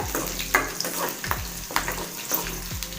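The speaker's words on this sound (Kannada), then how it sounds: "ಜೊತೆಗೆ 3 ಹಸಿಮೆಣಸಿನ್ಕಾಯಿ ಹಾಕ್ಕೊಳ್ಳಿ. ಚೆನ್ನಾಗಿ ಫ್ರೈ ಮಾಡ್ಕೊಳ್ಳೋಣ." Mustard seeds, garlic and three green chillies crackle and sizzle in hot oil, with a few sharp pops and the scrape of stirring recurring every second or so, close and moderately loud with no voices.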